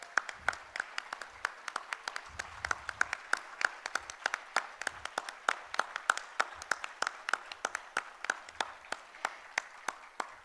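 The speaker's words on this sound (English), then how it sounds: "the lovely audience to give them a huge round of applause" Steady applause from a live audience fills the hall for the top 25 finalists of a global coding contest grand finale, with individual claps sharp and evenly scattered throughout and no voices on top.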